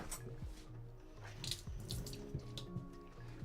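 Water runs from a tap, a soft, close trickle with small splashes and drips, faint and steady with no one talking.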